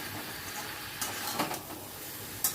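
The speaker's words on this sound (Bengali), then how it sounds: "আবারও সব কিছু ভালো করে মিশিয়ে নিচ্ছি।" Spiced food being stirred and mixed in a frying pan, a soft steady sizzle under scraping strokes, with a few sharper clinks of the utensil against the pan.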